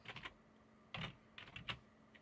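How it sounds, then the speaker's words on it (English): Soft keystrokes on a computer keyboard come in short bursts, a few quick taps at the start, a pause, then another cluster of light clicks, close and quiet in a still room. "I just want to type futures margin."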